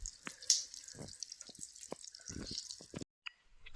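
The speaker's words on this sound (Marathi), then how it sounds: "पाणी बघा कसं निघतंय." Water trickles and drips at Mahuli fort near a cave, with a scattering of distinct close drips over a faint steady flow before a brief drop to near silence.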